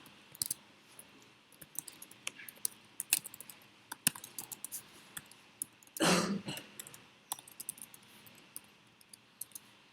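Rapid, uneven keystrokes on a computer keyboard while a program is written during a computer science lecture, with a brief cough or throat clearing partway through; close and moderately loud, with no talking.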